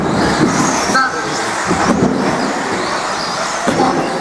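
A 1/10 scale off-road RC race car runs during a club race heat, its buzzy motor whine passing over a wire-mesh section of track amid steady broadband outdoor noise, with a commentator talking over it.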